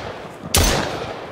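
A single sharp gunshot-like impact hits the player in a Minecraft-style Far Lands game, a loud broadband burst that fades over about a second above a steady background hum.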